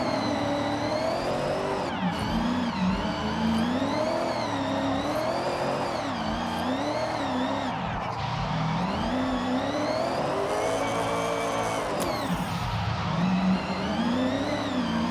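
Mitsubishi Evo IX engine revving hard while drifting in Forza Horizon 6, a continuous loud, wavering engine note with rising and falling pitch and tyre noise throughout.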